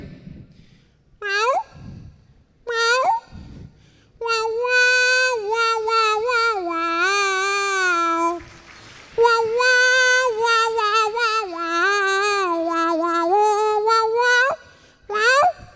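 At a Kerala school arts festival mimicry competition, a voice mimics cats with drawn-out, wavering meows, some short and some sustained and sliding in pitch, loud and close with brief pauses.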